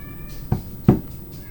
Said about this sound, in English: my cats are in the kitchen fighting